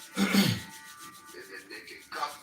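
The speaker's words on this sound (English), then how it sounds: "Rub the palms briskly." Palms rub briskly together in a short, close swish lasting about half a second, followed by faint rustling and a second, softer rub near the end.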